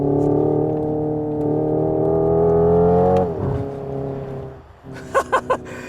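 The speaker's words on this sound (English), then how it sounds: "this is where the car is mimicking the petrol turbo and 8-speed dual clutch in the i30N" A Hyundai Ioniq 5 N electric car plays a simulated petrol turbo engine sound: a steady, droning hum with layered harmonics holds, then drops in pitch like a dual-clutch downshift, followed by a few short revving blips.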